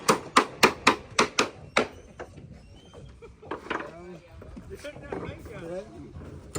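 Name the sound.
hammering wood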